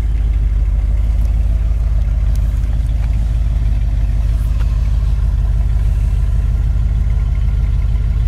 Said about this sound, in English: Dual exhaust sounds nice.